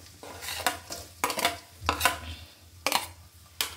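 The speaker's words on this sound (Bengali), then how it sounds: "পেঁয়াজটা ঢেলে দিচ্ছি, 1 কাপ হবে।" Chopped onion, about one cup, poured into a cooking pot in several separate bursts, each a short rattling clatter and scrape close by, with quiet gaps between.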